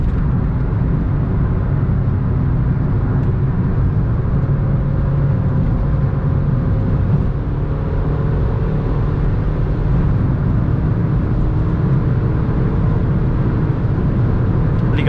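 A turbocharged Honda Civic weaves through city traffic, its engine a steady, loud drone heard from inside the cabin without letup, with no talk over it.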